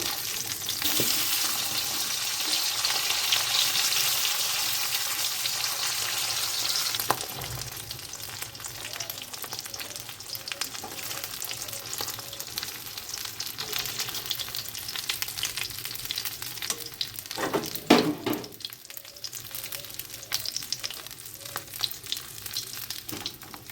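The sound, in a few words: fish being lightly fried in a pan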